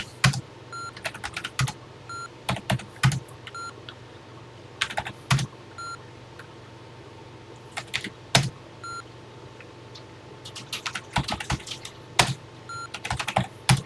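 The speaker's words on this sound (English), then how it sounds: "we're going to run through and just type in a bunch of other numbers." Numbers typed on a TI-99/4A home computer keyboard, close bursts of clicky keystrokes in irregular runs with short pauses between them, no talking.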